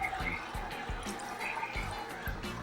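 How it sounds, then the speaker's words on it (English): Water being poured into the bowl of an Omega VSJ843 juicer for cleaning, a close, splashy gurgle with irregular low thumps and sloshing. "You just simply pour in water, fill up your bowl, make sure your juice cap is closed"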